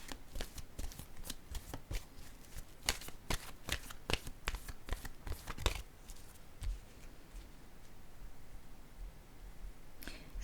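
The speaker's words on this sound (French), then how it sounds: "Je vais piger une carte de mon oracle, de l'âme intuitive." Oracle cards are shuffled by hand in a quiet room, a run of sharp riffling snaps and taps for several seconds, then softer handling as cards are drawn.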